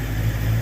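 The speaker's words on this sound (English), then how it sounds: "Rev it up." A Ford Mustang engine held at a raised speed, giving a brief, steady, close mechanical drone with a low hum and no voices.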